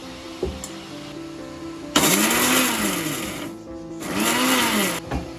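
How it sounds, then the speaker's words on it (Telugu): An electric mixer grinder runs in two loud bursts, pulsing briefly on and off as it coarsely grinds onions for a chicken fry, with a low whine rising and falling between the bursts. "మిక్సీ పట్టేసుకోవాలి."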